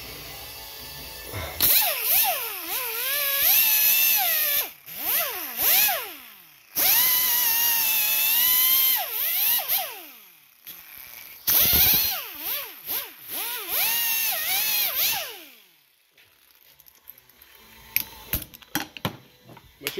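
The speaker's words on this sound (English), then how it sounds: "Make sure you wear safe glasses if you use some high-powered wire wheel like I did." A high-powered wire wheel on a power tool scrubs salt rust off the front hub of a 2004 Dodge Ram 1500 4x4 Hemi, whining loudly in long bursts that rise and fall with load, broken by short pauses and a quieter stretch at the end.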